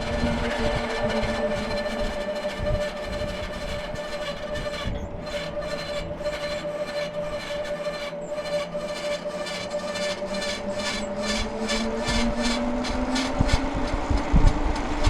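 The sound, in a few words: Mooncool TK1 folding electric trike motor and wheel rubbing while riding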